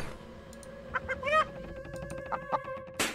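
Chicken clucking from the AltF4 video game, a run of short clucks and squawks over steady game music, with a louder burst near the end.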